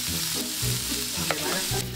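Corned beef fries and sizzles in a pan, slightly scorched, with a constant close hiss and intermittent scraping stirs, and no one speaking.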